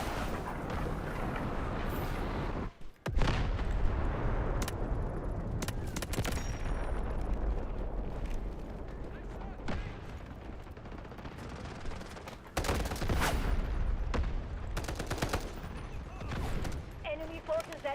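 Video game combat with an artillery barrage and gunfire: rumbling explosions and bursts of shots over a dense, noisy background, with voices talking throughout.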